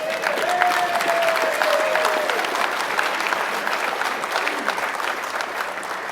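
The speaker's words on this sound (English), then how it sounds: "Now, Diane, we're going to give her a proper round of applause." An audience at a climate conference keynote gives sustained, even applause with dense clapping throughout, a few faint voices and whistles mixed in.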